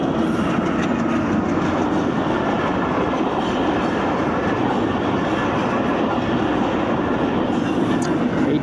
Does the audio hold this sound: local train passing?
yes